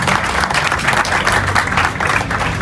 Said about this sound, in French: Encore des applaudissements s'il vous plaît pour Milan